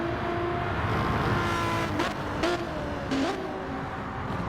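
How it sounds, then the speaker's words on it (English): An endurance race car's engine roars down the back straight in a continuous loud drone, with rising and dropping pitch as it shifts gears and passes, close and dominant throughout. "Listen to the engine roar of that sound."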